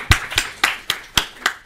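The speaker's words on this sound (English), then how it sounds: "let's give a round of applause for them." A single person clapping at a design talk, six slow, sharp, evenly spaced claps close to the microphone with quiet gaps between.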